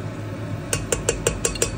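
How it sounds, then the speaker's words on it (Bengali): A spoon stirs garam masala spices in a metal pressure cooker, giving a quick series of about six light metallic clinks and scrapes at an even rhythm, close and clear. "একটু গরম মশলাগুলোকে নাড়িয়ে চাড়িয়ে নিচ্ছি"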